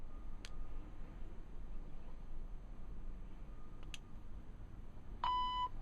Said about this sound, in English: that beep tells me that it's on